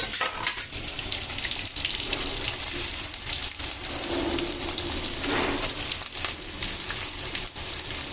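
Chopped onion frying in a pan alongside fenugreek leaves and green chillies gives a steady hissing sizzle, mixed with occasional clinks of utensils against the cookware.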